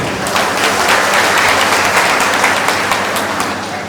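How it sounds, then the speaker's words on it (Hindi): A crowd at a political speech claps loudly and steadily, a dense wash of applause with no voices over it. "एक बार आप सब अपने लिए जोर से ताली बजा देंगे"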